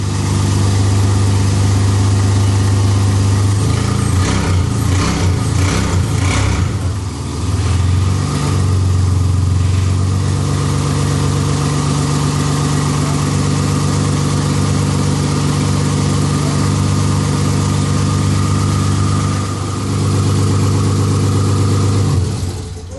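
A BMW 330i with a turbo fires up and settles into a loud, steady, rumbling idle, with a brief rough stretch early on before it evens out, close by.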